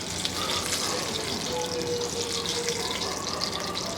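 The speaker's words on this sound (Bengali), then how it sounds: "ওই পাশটুকু আমি অল্প একটু ভেজে নিব" Eggplant slices frying in a pan of hot oil, a steady dense sizzle and crackle held at an even level throughout, close up with no talking.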